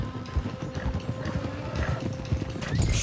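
Horse hooves clip-clop in Red Dead Redemption 2, with several horses trotting close in a loud, quick, uneven rhythm of hoof strikes, joined by brief snorts and rattling gear.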